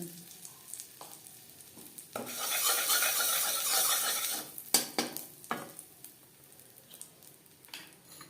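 Asafoetida hits heated mustard oil in a pan while making a pea filling for kachori, a loud sizzling burst lasting a couple of seconds, then scattered scraping and stirring sounds.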